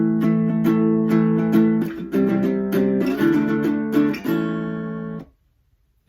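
An acoustic guitar strums a rhythmic chord pattern from a song, close and clear, with steady down strums before ringing out and stopping.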